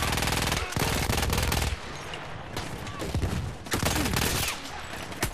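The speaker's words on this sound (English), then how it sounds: "Oh my god, they're shooting me hardcore." Heavy enemy gunfire in a World War I battle from Battlefield 1, dense overlapping rifle and machine-gun bursts close by, nearly continuous with brief lulls, no talking.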